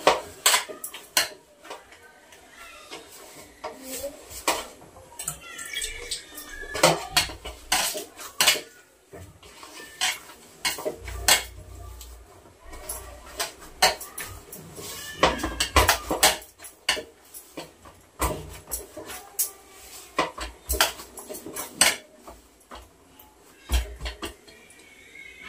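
Bhakri flour dough is kneaded by hand with a little cold water in a metal plate, producing close, irregular clinks, taps and scrapes of metal that come in uneven bursts.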